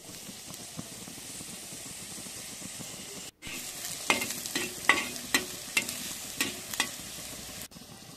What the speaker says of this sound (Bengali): তারপর একটু রসুন কুচি, পেঁয়াজ কুচি, সেগুলোকে একটু রোস্ট করে নিয়েছি আলাদা করে।